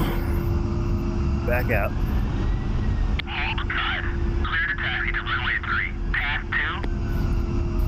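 A-10 jet engines whine steadily while taxiing in a DCS flight simulator, a loud continuous drone with a high tone, as radio voices talk briefly over it.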